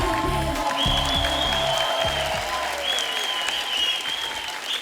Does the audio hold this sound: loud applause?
yes